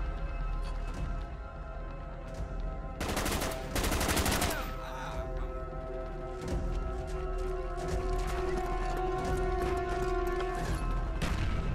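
Gunfire in a Call of Duty Black Ops team deathmatch, bursts of rapid automatic fire with a heavy barrage in the middle and scattered single shots, loud and close over game background noise.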